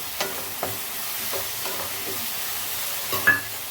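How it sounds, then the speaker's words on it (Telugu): Tender tamarind leaves are stir-fried into a mutton tripe curry, giving a steady sizzle under several distinct scraping stirs of a spoon in the pan. "చింత చిగురు వేసాక ఒకసారి మిక్స్ చేయాలి."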